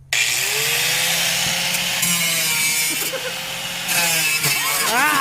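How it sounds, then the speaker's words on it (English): A power tool whines steadily while cutting plastic during a V8 swap on a 4x4 S10 Blazer, loud and close, its pitch sliding and wavering as the blade bites and lifting sharply near the end. "You're cutting the plastic."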